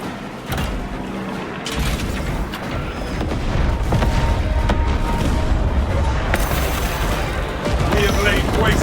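Explosions and gunfire in the Warhammer video game Space Marine 2, a loud continuous battle din of booms and rapid shots, near and dense throughout, with voices faintly beneath.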